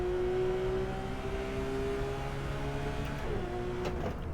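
A Porsche 911 GT3 RS engine in the Assetto Corsa racing game holds a high, steady whine near 9,000 RPM, then drops in pitch at a gear change, loud and continuous.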